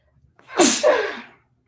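One loud, close sneeze with a sharp breathy burst, then silence.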